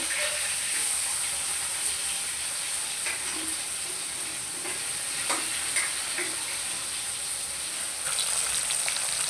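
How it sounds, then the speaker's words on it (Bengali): Tilapia fish fries in a pan with oil, a steady bright sizzle and hiss that continues throughout, with occasional soft pops and ticks of spattering. "এই যে মাছ ভাজা এক সাইডে সুন্দর মতো মাছ ভাজা হয়ে গেছে, আমি উল্টাই দিলাম।"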